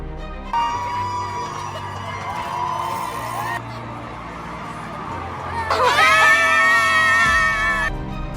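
A crowd at the Wellesley Scream Tunnel along the Boston Marathon course screams and cheers, a continuous roar of voices with a louder surge of high shrieks near the end.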